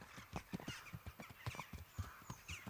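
Horse hooves clip-clop in a rhythmic, evenly spaced trot in the medieval game Kingdom Come: Deliverance, fairly quiet and alone without talk.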